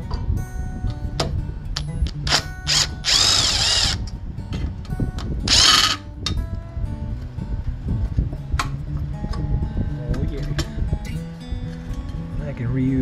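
A power driver backing Torx screws out of a snowblower tube, with short whirring bursts and a couple of longer high buzzing runs, close by, among ticks and clanks of handling metal parts.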